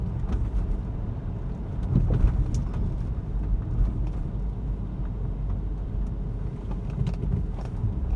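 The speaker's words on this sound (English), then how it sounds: "This is my first proper drive, me on my own, to get a feel for it." A car being driven on its owner's first proper drive, a steady low engine and road rumble filling the cabin at an even level throughout, with some wind noise and no talking.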